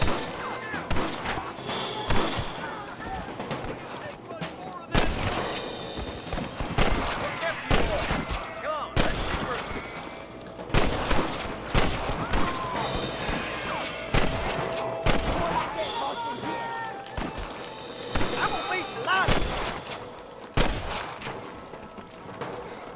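Shootout gunfire in the Red Dead Redemption western game at Pike's Basin: dense, irregular volleys of rifle and pistol shots with heavy thumps, steady throughout, with voices shouting over the battle.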